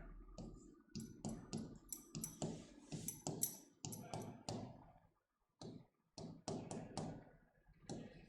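Chalk or marker tapping and scraping across a classroom board as company names are written out, a steady run of close, rhythmic strokes and clicks with a short pause midway and no talking.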